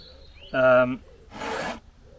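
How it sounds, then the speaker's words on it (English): A file is drawn across saw teeth to touch up an already sharp edge: one short, close rasping stroke, preceded by a brief tonal squeak, in an otherwise quiet room. "I'm not actually sharpening, I'm just keeping them sharp because I sharpen them all the time."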